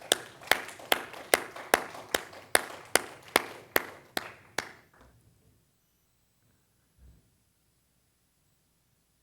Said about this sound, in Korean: 뒤에서 준비하신 분들께 감사의 박수로.